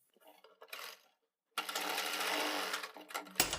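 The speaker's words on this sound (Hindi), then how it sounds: "यहाँ पर एक कच्ची सिलाई लगा देंगे ताकि हमारा नेक कभी इधर उधर ना भागे।" A sewing machine runs in two bursts on a kurti neckline, laying a loose basting stitch: a short whirring run, a pause, then a longer steady stitching stretch ending in a sharp clack.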